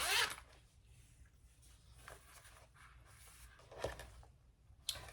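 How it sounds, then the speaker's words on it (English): Zipper being pulled open on a fabric messenger bag during sewing, a brief bright rasp at the start followed by a few faint scattered handling rustles in a quiet room. "And you're going to unzip your zipper."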